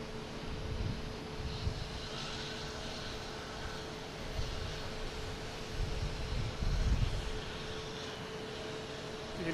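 Cape Air propeller plane arriving from Nantucket at Boston Logan airport, heard as a broad, rumbling engine drone at moderate distance. It swells and fades over wind-like noise, with no talk.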